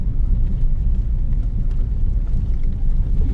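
A car driving along a mountain road past small village houses, heard as a steady, loud low-frequency rumble of engine and tyres that continues without a break and with no talk over it.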